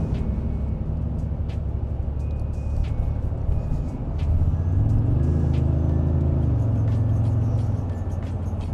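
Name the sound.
2025 Toyota Tundra Limited engine burble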